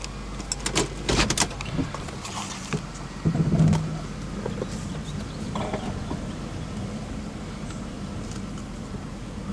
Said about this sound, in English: Window down.